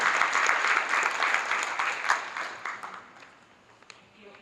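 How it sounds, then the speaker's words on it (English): Audience applause and clapping fill a convention panel hall at Epic Cons Chicago for Chi-Hard S.W.A.T. actor Eamon Walker, a steady dense burst that gradually fades toward the end. "Let's clap it up for Eamon Walker."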